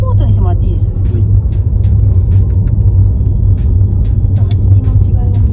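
Audi RS e-tron GT electric sports car on the move in comfort mode, a steady low road rumble with tyre and cabin noise throughout, people talking over it.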